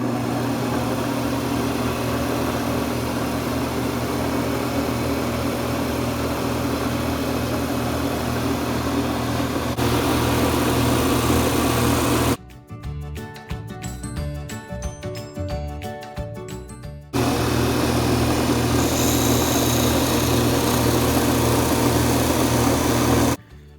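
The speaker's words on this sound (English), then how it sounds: "So I'm going to go ahead and turn the lathe on." A wood lathe turns a pen blank, giving a steady loud motor drone that cuts out for a few seconds in the middle and then starts again.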